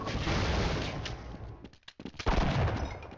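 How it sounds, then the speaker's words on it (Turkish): Gunfire in the video game Half-Life comes as loud, dense bursts of rapid shots, breaking off briefly before another flurry of firing. "Hop bir daha vurdum Emir'i."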